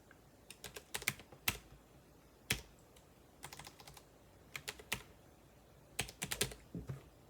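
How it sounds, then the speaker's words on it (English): Computer keyboard typing heard alone and close, in short irregular bursts of quick clicky keystrokes separated by pauses, at a low level. "I have to type in everything"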